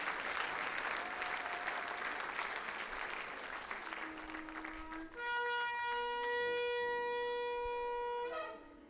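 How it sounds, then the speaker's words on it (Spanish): A church congregation applauds for the Lord in a steady, moderately loud round of clapping that runs about five seconds, then gives way to sustained music with a held melodic tone. "dale un aplauso al Señor"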